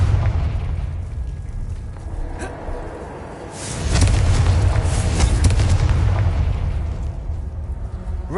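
The Confringo spell in the Hogwarts Legacy video game erupts as a loud fiery explosion, a booming burst that swells midway and rumbles on before tapering, over a low game background.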